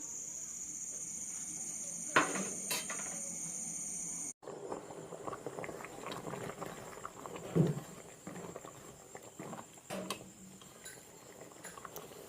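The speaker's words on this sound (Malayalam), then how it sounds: "പരിപ്പ് വെന്തില്ല വേവുന്ന വരെ വെയിറ്റ് ചെയ്യാം ഇടക്കിടക്ക് ഇതുപോലെ ഇളക്കി കൊടുക്കാം" Lentils for Kerala-style parippu pradhaman payasam stirred in a pot as they cook, soft scraping and bubbling close by under a faint steady hiss, with a few louder knocks of the spoon.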